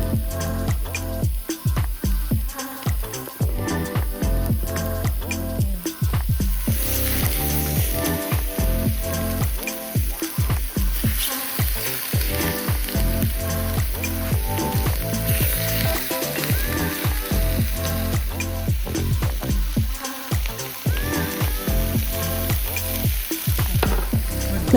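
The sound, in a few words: salmon skin searing in a hot pan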